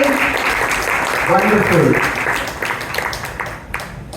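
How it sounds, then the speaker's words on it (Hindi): Applause from an audience at a leadership talk show event, a dense clapping wash that swells and fades over about four seconds, with someone speaking loudly over it. "जोरदार तालियां रवि जी के लिए।"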